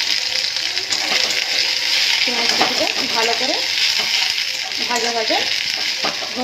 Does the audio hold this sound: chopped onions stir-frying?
yes